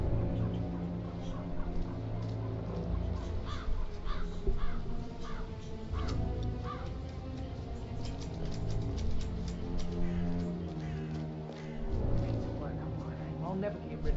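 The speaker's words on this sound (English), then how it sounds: "I'll never get rid of those stupid birds." Repeated crow caws from birds in a zombie-mode shooter video game, scattered across the clip over a busy, steady game soundscape with low hum.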